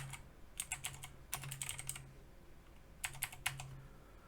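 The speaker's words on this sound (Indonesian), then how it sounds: "Jadi kita ngetik username dan password." Username and password being typed on a computer keyboard in close, quick bursts of clicky keystrokes separated by short pauses, over a faint steady hum.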